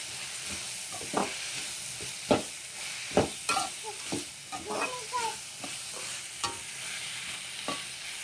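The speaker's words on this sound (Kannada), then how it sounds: "ಇದನ್ನೆಲ್ಲ ಇವಾಗ ಒಂದ್ಸರಿ ಚೆನ್ನಾಗಿ ಮಿಕ್ಸ್ ಮಾಡ್ಕೊಳ್ತಾ ಇದ್ದೀನಿ" Grated coconut and spices frying in a pan for a potato, black chana and green pea sambar, stirred with a steady sizzle and periodic scraping clacks of the spoon against the pan, close and continuous.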